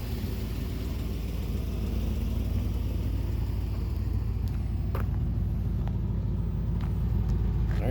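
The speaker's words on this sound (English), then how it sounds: "Get you exhaust note here as well while we're at it." A Mercury Monarch's exhaust rumbles at idle, a steady low throb recorded up close at the tailpipe with a few faint clicks above it.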